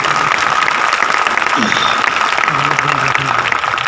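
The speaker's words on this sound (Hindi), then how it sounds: "एक बार उनके लिए जोरदार तालियों दीजिए।" An audience at an anniversary event applauds loudly and continuously, a dense wash of clapping with a voice briefly heard over it.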